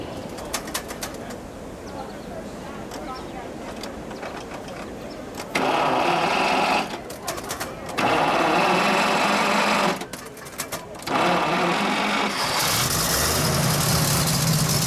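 A 1932 Buick Model 32-96S Country Club Coupe engine cranks and catches, then settles into a steady, fairly loud idle with surges in level, heard alone without talk.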